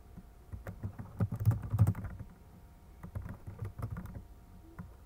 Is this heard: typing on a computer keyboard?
yes